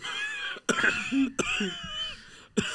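A voice imitates a smoker's dry cough, three or four harsh bursts spaced apart with raspy throat sounds between them.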